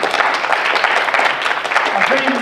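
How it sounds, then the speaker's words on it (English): Dense applause from the audience for the inductees at an NHS induction ceremony fills the whole short stretch, steady and fairly loud, with a voice rising over the clapping near the end. "And then a round of applause to you guys."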